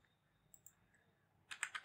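A computer keyboard is typed on near the end, a quick close burst of three or four clicks after a quiet, near-silent stretch.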